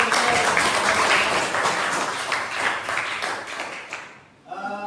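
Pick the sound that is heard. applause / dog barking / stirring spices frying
applause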